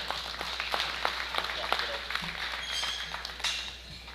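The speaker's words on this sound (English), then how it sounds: "Let's put our hands together and give her a nice round of applause" Applause from a crowd at a livestock show, steady scattered clapping that holds throughout, heard at moderate distance in a large space.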